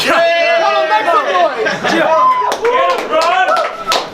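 Rap battle crowd noise with cheering, shouting and scattered clapping, loud and continuous, with voices yelling over the top throughout.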